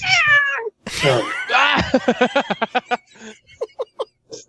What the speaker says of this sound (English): Is the cat on the microphone right now?